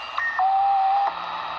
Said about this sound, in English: that's the W1EW signal, 3581 in Morse code.